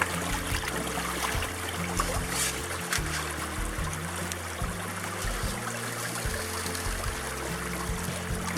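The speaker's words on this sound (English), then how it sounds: "a half bucket running through the sample over in the sluice box" Creek water runs steadily through a gold prospecting sluice box, a continuous close trickling and rushing flow under a low rumbling background, with no talking.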